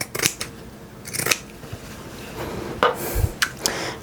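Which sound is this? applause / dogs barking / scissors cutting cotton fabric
scissors cutting cotton fabric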